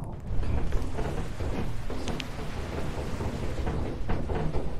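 A thunderstorm rumbles in Lethal Company, a steady heavy wash of low roar and rain-like noise filling the whole stretch, with faint crackling peaks and no talk over it.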